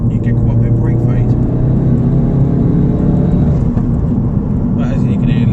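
A tuned Mk3 Ford Focus RS 375 drones loud and close from inside the cabin, its engine note steady throughout, with a few brief crackling exhaust pops on lift-off toward the end.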